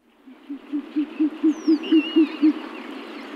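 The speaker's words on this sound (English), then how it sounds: "The hoot, one of the most recognizable owl calls, it is known as the sound of owls." Owl hooting, a steady series of about nine evenly spaced low hoots that are clear and close, with a faint high whistling bird call drifting over the middle of the sequence.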